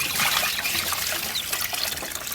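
Water pours and trickles steadily for ducks, a close continuous splashing stream with no talk.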